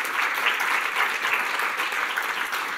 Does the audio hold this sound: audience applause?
yes